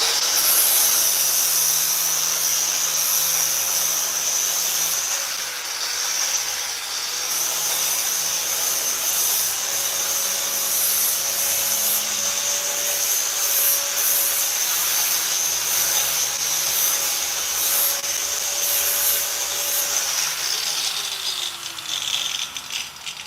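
A flap disc on a spinning grinder sands an egg, a loud continuous whirring hiss with a steady high whine that stays close and constant before easing off near the end.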